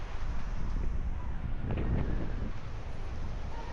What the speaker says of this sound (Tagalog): Lakas ng hangin. Sarap ng hangin.